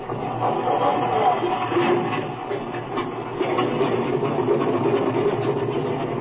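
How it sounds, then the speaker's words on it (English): A warmed-up airplane engine running steadily after start-up, giving a continuous droning rumble with slight rises and falls in level and no speech over it. "The engine's been warmed up already."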